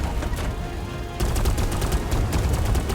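Rapid bursts of heavy cannon fire in the video game Warface crackle continuously, a dense barrage of loud repeated blasts that intensifies after a brief lull.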